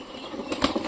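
A pigeon beats its wings in a quick, close burst of soft flaps lasting about a second, at a home pigeon loft.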